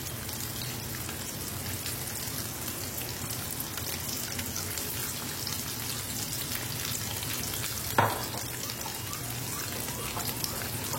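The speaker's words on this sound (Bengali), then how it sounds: "একইভাবে আমি সব মাছগুলোকে কিন্তু ভেজে নেব।" Cornflour-coated amudi fish frying in oil in a pan, giving a steady, dense crackling sizzle throughout with one brief utensil clatter partway through.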